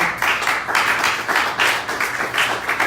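A church congregation claps for the Lord in a loud, full burst of many hands, swelling in waves with rhythmic accents across the whole stretch.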